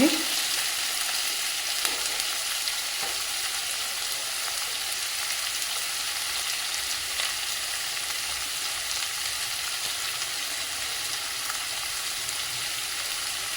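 Onions fry in a pan for a spiced Punjabi pumpkin dish, giving a steady, even crackling sizzle that runs throughout with no talk.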